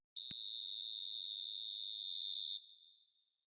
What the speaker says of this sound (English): the referee whistles for half-time